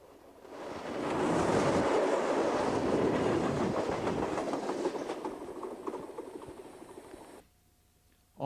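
A freight train of mostly empty chemical tank cars rolls past on a Mississippi River line, swelling into a loud steady roar with rhythmic wheel clatter, slowly fading, then cutting to near quiet at the end.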